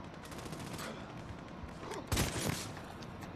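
Gunfire in the game Army of Two: The Devil's Cartel, a rapid crackle of shots in a sustained fusillade, with a louder, heavier burst near the end and no talk.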